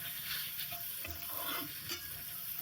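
Khichuri ingredients being stirred and mixed in a pot over heat, a steady scraping and shuffling with a soft sizzle underneath, close and continuous with no talking.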